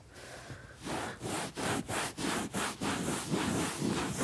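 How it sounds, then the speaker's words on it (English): A wet rag scrubs a linen couch in quick repeated back-and-forth strokes, a soft rhythmic rasping close by after a quieter start, with no talk. "all I'm going to do now is just scrub on these areas"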